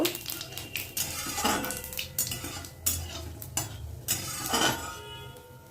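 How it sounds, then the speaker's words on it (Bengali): A spatula stirs a tempering of dried red chillies, bay leaves and whole cumin in hot oil in a pan. Sharp metallic scrapes and clinks repeat irregularly over a soft, steady sizzle. "ভালোভাবে একটু ফোড়নটাকে নাড়িয়ে দেব।"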